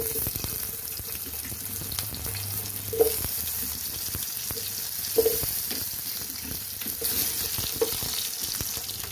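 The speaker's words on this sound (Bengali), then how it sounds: "আমি ধোকা ভাজার তেলেই আলুগুলো দিয়ে দেব।" Potatoes frying in the same oil used for lentil dhoka make a constant close sizzle, with occasional utensil clinks and stirring scrapes over the top.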